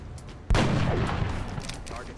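A single loud, close gunshot or cannon blast in a squad strategy video game, followed by a rumbling echo that fades over about two seconds.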